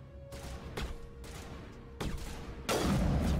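Mass Effect: Legendary Edition gunfire, a few sharp cracking shots at uneven intervals over low game ambience, ending in a heavier, louder burst.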